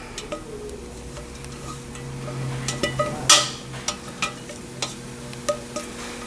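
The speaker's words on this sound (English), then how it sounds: "And what do we do to our pans? We gotta scrape it." Pans holding a homemade lotion mixture are scraped out, giving a series of short, close scrapes and light ticking knocks, with one sharper scrape partway through.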